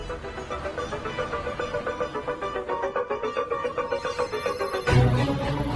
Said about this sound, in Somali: hadeertan fiiri qof ayaa soo wacaya